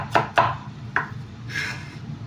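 Onions are sliced with a knife on a board while cooking: three quick crisp cuts followed by a softer drawn slice, close and clear with no talking.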